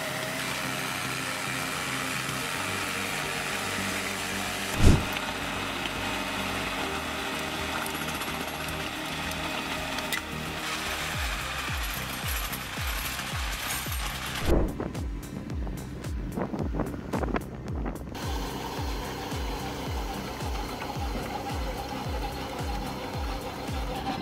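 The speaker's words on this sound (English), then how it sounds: "The machine utilizes horizontal counter-rotating tines that rotate at high speeds." A rotary soil tiller with horizontal counter-rotating tines spins at high speed, milling and breaking up farm soil and burying stones before watermelon planting. It gives a steady loud mechanical rumble with rapid rhythmic knocking throughout, plus a couple of sharper clanks.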